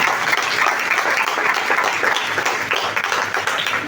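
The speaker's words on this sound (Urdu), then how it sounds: "سب تالیاں زوردار سے بجائیے" A church congregation of men, women and children at a Palm Sunday service applauds loudly, a dense, steady roar of clapping with no pauses.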